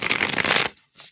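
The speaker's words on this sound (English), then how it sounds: "Let's give these a shuffle and see what's going on here." Tarot cards riffle in a quick shuffle for about two-thirds of a second, a dense papery flutter up close, followed by one short soft card tap.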